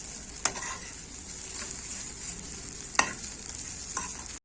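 Bread pieces toast in a pan for Egyptian fatta, a constant hissing sizzle with a few sharp scraping stirs spaced a second or two apart.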